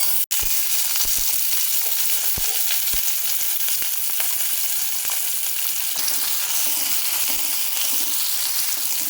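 Onion and green chillies sautéing in oil, a loud, steady close-up sizzle throughout with a sharp clack at the start and scattered spatula taps.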